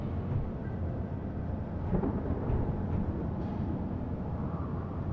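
Thunder rolls in the survival game Space Engineers, a heavy low rumble with a slight swell near the middle, sustained and loud throughout and free of speech.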